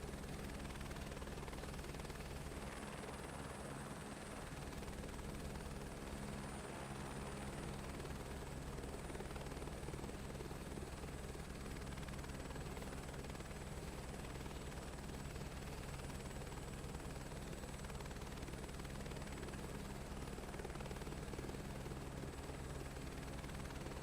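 Helicopter engine in Microsoft Flight Simulator 2024, a steady low rotor thrum and turbine whine droning evenly throughout without a break, alone with no talking.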